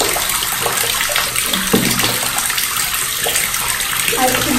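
Water runs and sloshes steadily while a solid silicone reborn baby doll is bathed in warm water, a continuous splashy wash with someone talking softly in between.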